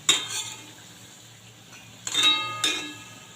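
Palm fruit fritters are turned over while frying in a pan, giving a few sharp metallic clinks of a utensil against the pan over a faint background hiss.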